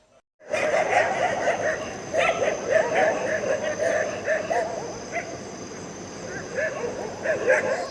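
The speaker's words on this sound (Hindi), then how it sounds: "और यहाँ पे कुत्ते कितना भौंक रहे हैं" Dogs bark repeatedly through the night, the yelps carrying over a steady hum of insects or outdoor ambience, persistent and moderately loud throughout.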